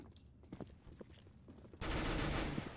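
Gunfire in the video game CS:GO: scattered quiet clicks and footsteps, then a sudden loud sustained burst of shots filling the final second.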